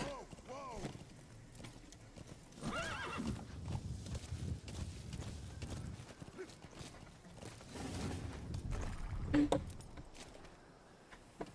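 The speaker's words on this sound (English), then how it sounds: "I can hide while riding my horse." Rhythmic hoofbeats from the video game Metal Gear Solid V: The Phantom Pain clip-clop along with a horse whinnying near the start, while a person talks over the trotting and other game sounds.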